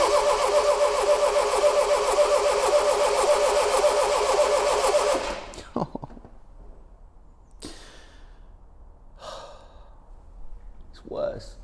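An abandoned Triumph Dolomite car engine cranks and fires, running loud and rough for about five seconds before cutting out, followed by scattered quiet sounds and a couple of brief breaths or sighs.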